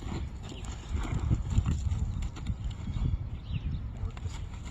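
A horse moves on a line, its hooves giving a steady, moderately close clip-clop rhythm over quiet outdoor ambience, with no talking.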